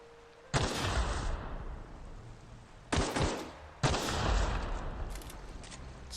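Gunfire in the video game The Outer Worlds: three sharp, loud shots, each trailing off into a long echoing decay. They fall at uneven intervals, the first near the start and two more close together later, with no voices.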